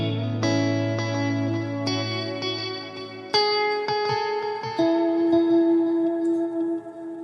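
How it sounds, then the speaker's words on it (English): A clean guitar tone on a Line 6 Helix reverb preset plays a low chord followed by single picked notes and melodic phrases, each trailing into a lush reverb tail, with no speech over it. "I have a clean sound like this."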